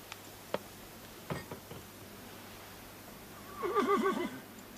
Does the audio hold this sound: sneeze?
no